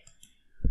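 A single sharp computer mouse click lands at the very end, after near silence, during work in Autodesk Inventor software.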